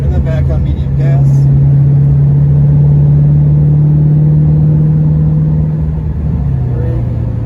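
Race car engine at Sonoma Raceway, a loud sustained drone held at one pitch for most of the run, then dropping slightly as the throttle changes. A voice talks over it.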